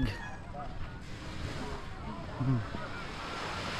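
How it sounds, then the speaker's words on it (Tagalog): A calm, flat sea heard from aboard a boat: a soft, steady wash of water mixed with light wind rumble, and a voice speaking over it. "Patag ng dagat, payapang payapa"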